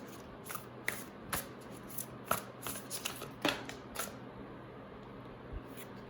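Animal Spirit Oracle cards being handled and drawn from a deck for a tarot-style reading: soft papery shuffles and snaps in scattered bursts, close and fairly quiet, with no talking.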